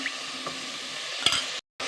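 Jaggery and a little water are stirred in a large pot, giving a close, steady scraping swish with a brief knock before a short cut to silence.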